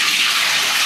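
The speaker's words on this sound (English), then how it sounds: "So let's get rid of this water." Water poured away from a container while making E3Live ice cubes, a brief steady close splashing gush with no talk.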